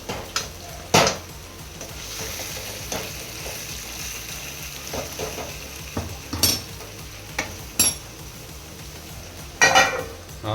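Pendhara, a wild leafy vegetable, is stirred and mixed as it cooks in a pan: a soft continuous sizzle broken by sharp intermittent scrapes and knocks of the spoon.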